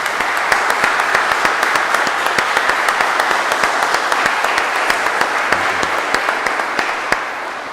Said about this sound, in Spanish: Y un aplauso fuerte para ellos